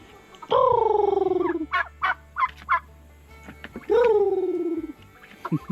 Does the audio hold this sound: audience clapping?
no